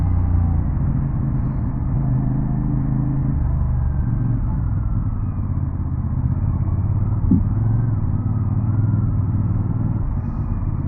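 Heavy road traffic on the NLEX Skyway heard from a motorcycle rider's position, a constant low engine rumble and tire drone with a brief clatter partway through, loud and close throughout.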